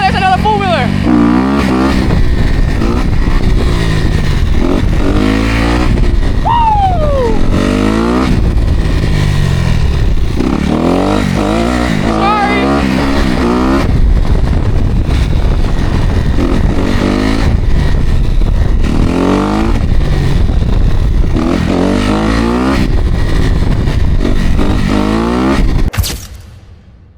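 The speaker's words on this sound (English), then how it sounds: "Oh, there's another four-wheeler." A four-wheeler ATV engine revs and drones close by on a walking trail, its pitch rising and falling repeatedly, while a person talks over it throughout.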